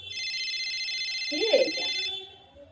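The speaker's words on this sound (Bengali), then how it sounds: "যাওয়া মাত্র ফোন এসে গেছে" An electronic phone ringtone chirps steadily for about two seconds, with a brief voice in the middle before it stops.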